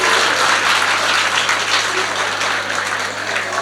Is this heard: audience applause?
yes